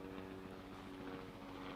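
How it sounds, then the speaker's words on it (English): A helicopter flies overhead during an outdoor press conference on a Brooklyn street, heard as a steady, even rotor drone that holds at a constant level throughout without any talking. "The helicopters."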